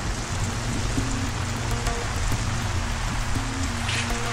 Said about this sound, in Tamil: அட நல்ல மழை பெய்யுதே